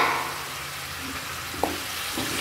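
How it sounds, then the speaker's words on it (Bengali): Chopped tomato frying with spices in a pan makes a dense, close sizzle throughout, with a single clack of a spatula against the metal partway through. "টমেটোটা একটু ভালো করে ভাজা করে নিয়ে মশলার সঙ্গে"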